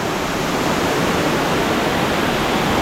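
A clean hidden waterfall in Asud village in the Konkan during the rains roars as a loud, constant, close rush of falling water, unbroken throughout.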